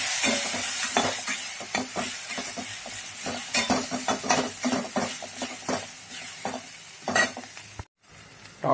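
Vegetable pulao stirred in a pan as the ground spices and black pepper powder fry, steady sizzling with repeated scraping strokes of a spoon against the pan, close and continuous.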